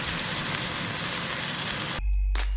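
New York strip steak fat renders in a hot wok, a steady loud sizzle for two seconds that then cuts to near silence before a brief low thump at the end.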